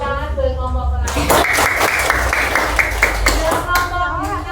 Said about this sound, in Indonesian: Tepuk tangan buat kelompok pertama.